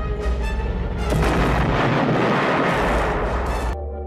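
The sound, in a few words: explosion of a corridor in a film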